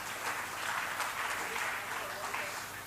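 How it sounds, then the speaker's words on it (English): Audience applause at a TiE Nagpur business networking and members' meeting, a steady spread of hand clapping lasting throughout, moderately distant and soft with no talk over it. "we can give a round of applause to Rishi"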